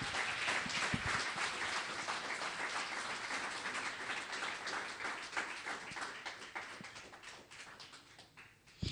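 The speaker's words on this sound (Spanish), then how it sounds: "Dele un aplauso si usted cree eso." A church congregation breaks into sustained applause, dense clapping carrying steadily at close range with no talk, then thinning slightly near the end.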